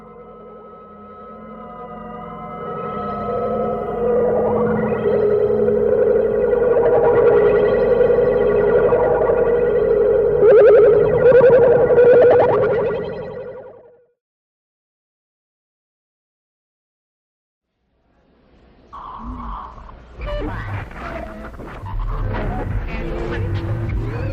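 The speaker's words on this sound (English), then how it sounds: "Speaking of Schaeffer, he's responsible for the creation of the next genre, musique concrète" Musique concrète electronic piece with layered, echoing tones drenched in chorus and distortion that swell loudly for about fourteen seconds, cut to silence, then return as harsher, scattered textures.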